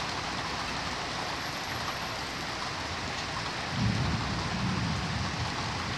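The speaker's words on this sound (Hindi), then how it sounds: "आज मक्के में बहुत ज़बरदस्त बारिश हुई है" Dense, steady rainfall pours down without pause in Mecca, with a low rumble of distant thunder swelling briefly near the end.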